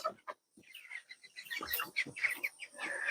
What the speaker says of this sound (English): Do I hear another chick in here?